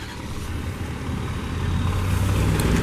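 A 2012 Ford F-250 King Ranch pickup with the 6.7 engine idles as a low, steady diesel rumble that swells a little toward the end. Nobody speaks.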